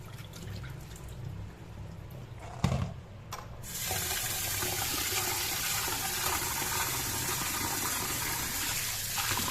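Dal lentils are washed by rubbing them in water at a sink. A quieter stretch with a few clunks gives way to a steady, full rush of running tap water that continues to the end, with no voices.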